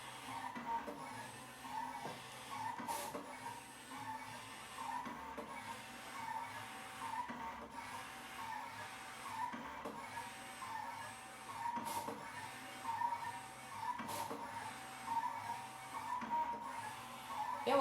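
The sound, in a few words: cutting machine running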